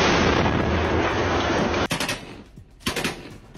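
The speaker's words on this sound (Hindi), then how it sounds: "बखमुत के एक विलेज में यूक्रेन के सैनिक गोलियों की बौछार करते दिखे।" Rapid automatic gunfire from Ukrainian soldiers in a village near Bakhmut during the Russia-Ukraine war rattles in a dense, continuous burst, then breaks off into a few sharper separate shots and a shorter volley.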